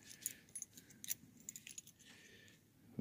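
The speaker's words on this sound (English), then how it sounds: "We got some GM keys." Set of GM car keys for a 1986 Chevrolet Celebrity jangling close by in a series of light metallic rattles and clinks over about three seconds, with no talk.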